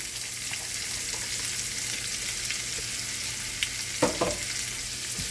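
Garlic and half a small onion fry in oil, a steady close sizzle throughout with a couple of brief utensil knocks near the end.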